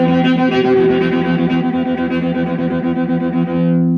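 An Outlaw Fiddle EV3 electric violin plays a distorted, sustained tone that rings out with gliding pitch and echoing effects, fading away at the end.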